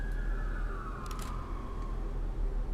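A war alert siren in the strategy game Victoria 3 sounds as a single descending electronic wail under a steady low background hum, with a brief faint chime partway through and no talking.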